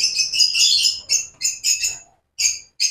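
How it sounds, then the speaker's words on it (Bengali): Frightened lovebirds in a breeding enclosure calling loudly, shrill overlapping squawks and chirps close by, coming in a long burst followed by shorter choppy bursts separated by brief silences. "ওরা খুব ভয় পাচ্ছে, সব এক জায়গায় চলে গেছে প্রচণ্ড ডাকাডাকি করে"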